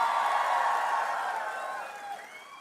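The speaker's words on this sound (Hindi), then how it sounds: "एक बार ताली बजाकर इनका स्वागत करिए" A crowd applauds and cheers to welcome speakers at a political rally, the sustained clapping loud at first and then gradually fading.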